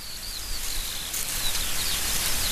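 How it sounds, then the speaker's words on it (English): Organic beer, Michelob Ultra Pure Gold, being brewed gives a steady, close fizzing hiss with faint crackles and tiny high chirps running throughout, no voices. "That's the sound of organic beer being made."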